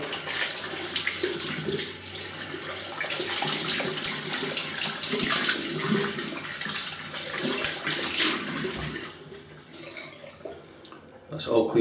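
Tap water runs steadily into a sink as shaving soap is rinsed off hands, a broad continuous splashing that fades out near the end, with speech over parts of it.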